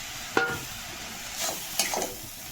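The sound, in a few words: leafy greens frying and being stirred in a pan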